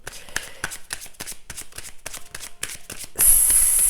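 Tarot cards shuffled by hand: a quick series of soft, crisp riffling flicks in a steady rhythm, close and fairly quiet, ending in a brighter, louder rush of card noise.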